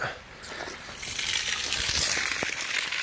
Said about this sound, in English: turn it on so you can see how much water, how fast that water comes out